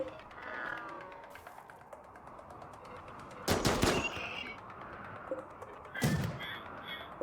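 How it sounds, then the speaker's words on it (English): Gunfire in RimWorld, with two short bursts of shots standing out over a busy game soundscape and a speaking voice. "Oh, you're shooting at Rosie?"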